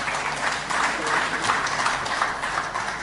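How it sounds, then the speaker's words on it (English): Steady applause from a crowd at an IGAD address, an even wash of clapping with no voices, moderately loud throughout. "Let's give them a hearty clap."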